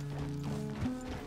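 Horse hooves clip-clop at a slow walk in the video game Red Dead Redemption 2, a soft, even rhythm over a low ambient game background with no talking.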